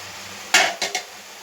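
A cleaned, salted and turmeric-coated batch of chicken goes into a pot of hot oil and masala with a sharp metallic clatter, followed by two quicker knocks of pot and utensil, then a low background hum.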